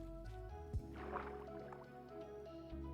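Hot spring water in the block-building game TerraFirmaCraft drips and gurgles softly in a steady liquid wash, with a few brief splashy drops standing out against the low, continuous background.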